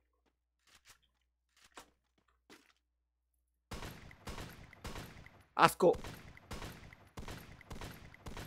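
Gunfire in the battle royale game Free Fire: a burst of close, loud shots in quick succession amid game sounds, following a few faint isolated pops, with someone talking over it.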